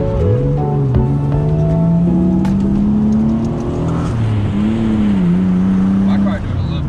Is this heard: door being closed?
no